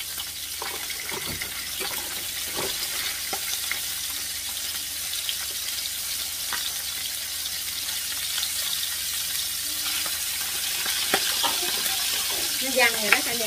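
Fish frying in a hot pan, a constant bright sizzle with scattered pops and spatters of oil, fairly loud and close, without speech.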